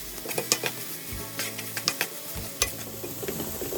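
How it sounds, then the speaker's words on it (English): Chopped chilies and onions stir-fry in hot oil in a pan, with a steady sizzle and the repeated scrape and clink of a utensil stirring against the metal. "heat 2 tablespoons of oil in a pan and stir fry the chopped chilies and onions until they are translucent"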